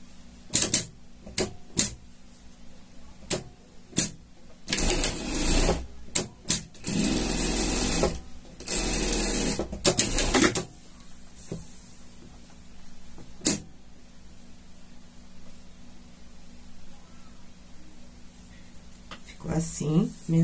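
A sewing machine stitches a seam on a shark costume, starting with a few short taps, then running in steady buzzing bursts for several seconds before stopping, with quieter single clicks later and a faint hum between.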